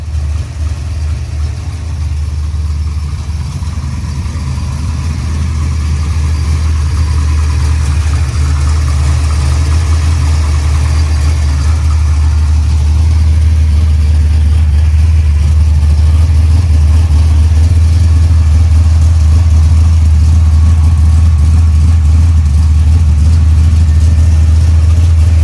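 A Monte Carlo Super Sport Street Outlaws car with a big block 502 engine idles loudly and steadily, a deep rumbling lope that holds up close for the whole stretch with no voices.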